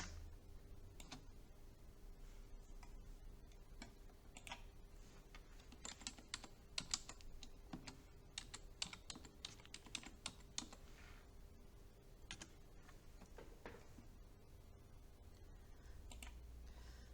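Close, quiet typing on a computer keyboard while entering text in Microsoft Word, irregular clusters of key clicks over a low steady hum, with no talking.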